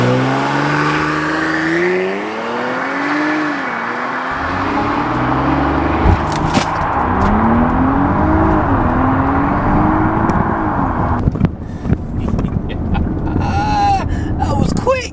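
A Porsche Cayenne S pulls hard from a standstill toward 60 mph, engine rising through rev sweeps with gear-shift dips, heard loud from inside with wind noise and a burst of speech near the end.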